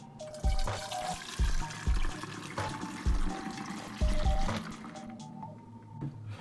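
Homemade almond milk poured through a funnel into a container, a continuous gurgling liquid flow with repeated glugs and bubbling, close and fairly loud, without talking.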